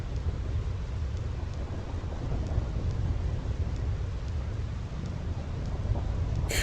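Continuous low rumbling thunder with rain from a lightning storm in Final Fantasy X, a dense steady roar without distinct cracks, moderately loud and alone.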